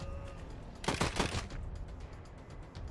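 A short burst of gunfire in Wasteland 3 combat, a quick cluster of rapid shots near the one-second mark, moderately loud against quiet game ambience.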